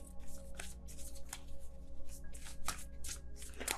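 A tarot deck is shuffled by hand, with a steady run of close riffling and flicking card sounds over a low background hum and no talking.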